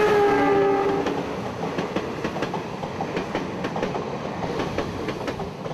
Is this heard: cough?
no